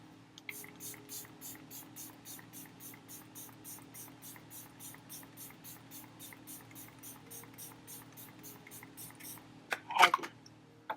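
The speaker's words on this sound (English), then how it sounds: "LYS Natural Finish Setting Spray." LYS Natural Finish Setting Spray gives a long series of rapid, even pump spritzes, about twenty soft hissing bursts in a steady rhythm close by, ending with a couple of louder clicks.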